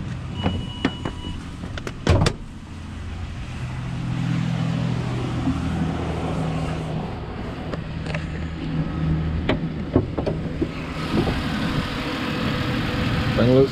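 A Ford Explorer Sport Trac idles with a low steady engine hum, broken by door clunks and clicks near the start, and a voice is heard intermittently.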